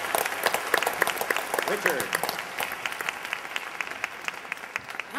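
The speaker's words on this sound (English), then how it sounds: "How about another big round of applause for Bill Shireman for doing a great job moderating" A conference audience applauds a panel discussion: dense, steady clapping throughout, with a voice speaking over it.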